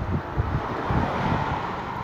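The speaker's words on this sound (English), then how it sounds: "it's windy today and cold." Cold wind gusts outdoors along a street in Kentville, Nova Scotia, a loud buffeting rumble of wind against the microphone, steady with uneven surges.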